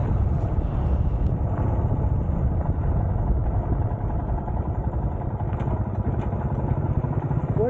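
A motorcycle engine rumbles steadily and loudly throughout at the Kavaledurga fort parking area in Thirthahalli, a continuous low, throaty drone with some clattering.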